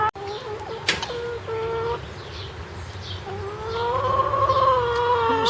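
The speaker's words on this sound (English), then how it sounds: "Chickens are complaining." Backyard chickens cluck and complain nearby in a short run of overlapping calls, with a brief flutter near the start and a steady low hum behind them.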